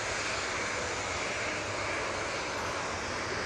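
A TUI Boeing 737-800 jet at Manchester Airport gives a broad, steady engine roar that stays loud and even for a few seconds, with faint wind rumble underneath and no voices.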